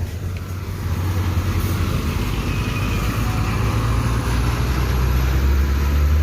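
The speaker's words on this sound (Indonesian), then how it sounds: "Ini tumben ada truk yang masuk terminal Barai Solo ini bosku." A heavy-laden truck's engine rumbles steadily nearby as it drives into the Solo bus terminal, a low continuous drone with road noise and no voices.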